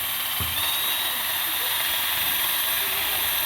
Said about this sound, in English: then I usually use some brake clean and get the rest of this stuff off